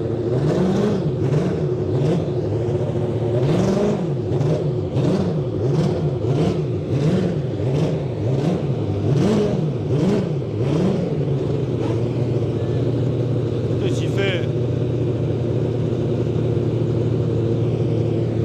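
Historic race car engine revs repeatedly in a rising and falling rhythm at a paddock, loud and steady, with a brief voice over it and a short metallic ping near the end.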